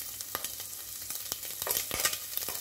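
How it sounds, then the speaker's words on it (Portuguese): Bacon frying in a pan, a continuous crackling sizzle with sharp pops and occasional stirring scrapes, close and fairly loud, with nobody speaking. "Aqui a gente espera o bacon ficar douradinho."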